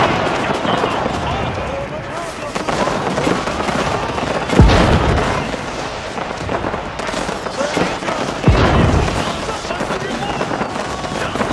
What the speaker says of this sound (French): Les canons arrivent.